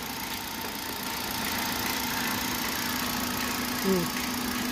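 A Hyundai i20 1.2 Kappa engine idles steadily with a continuous hum and faint belt whirring, a brief squeal near the end, and no clear talking.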